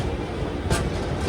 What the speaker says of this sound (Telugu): అది టాటా నగర్ ఎస్ఎంఈటీ బెంగళూరు ఎక్స్ప్రెస్ ట్రైన్ ఇది.